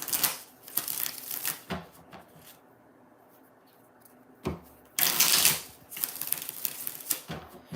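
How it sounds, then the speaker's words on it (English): Rider-Waite tarot cards are riffled and shuffled in several crisp bursts, separated by a quieter pause in the middle. "3 more shuffles"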